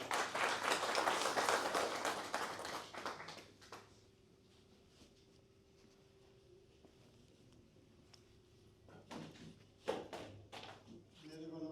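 An audience claps loudly at an award ceremony honouring a Sikh motorcycle club, the dense applause filling the first few seconds before fading into quiet with scattered taps and brief talk.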